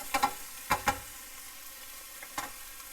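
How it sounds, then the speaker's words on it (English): Onions sautéing in a pan, a faint steady sizzle broken by a few sharp clicks and scrapes of stirring, close and without talk. "we'll go ahead and get the onions a little bit translucent"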